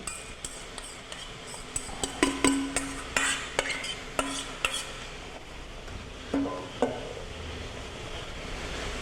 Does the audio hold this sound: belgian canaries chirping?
no